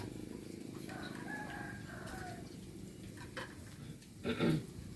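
Chickens cluck and fuss over a steady outdoor background, with one louder squawk near the end; no talking.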